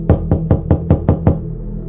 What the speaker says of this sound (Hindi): इसने इस हेरिटेज के सामने अपनी मोटरसाइकिल खड़ी की और उसका दरवाज़ा खटखटाने लगा।